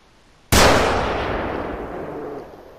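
A single loud rifle shot fired at a bear in the hunting game theHunter Call of the Wild, a sharp crack followed by a long rolling echo that fades over two seconds.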